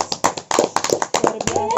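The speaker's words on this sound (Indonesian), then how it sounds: "Tepuk tangan buat kita." A small group at a mosque youth gathering claps hands in sharp, uneven bursts, close and loud, with voices chattering between the claps.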